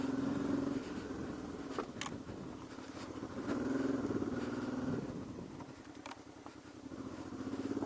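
A 1994 Honda 600 Transalp motorcycle on its first ride after being brought back into running order, engine droning steadily with gentle rises and falls in revs under rushing wind.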